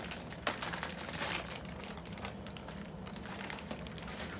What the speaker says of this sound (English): So Zach, if you want to go ahead and grab one of the bags down there, and if you want to dump it in